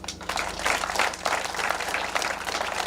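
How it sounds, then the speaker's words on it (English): An audience claps at a women's workshop launch event, a dense, even wash of applause sustained throughout, with faint murmurs mixed in. "Another round of applause for Renee Klingstadt"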